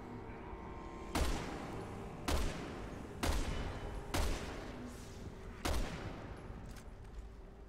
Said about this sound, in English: I will shoot them for as long as I have ammo.